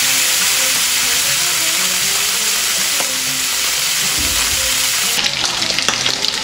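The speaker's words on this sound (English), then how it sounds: "we're going to fry it" Oxtail fries in a hot pan with a loud, dense sizzle and crackle that runs without pause, the spattering hiss brightening near the end.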